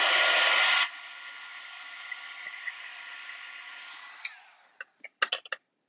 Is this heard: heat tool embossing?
yes